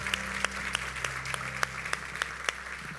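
Scattered, sparse claps ring out from a church congregation during a worship service, individual hand strikes spaced irregularly over a low sustained hum and faint background sound.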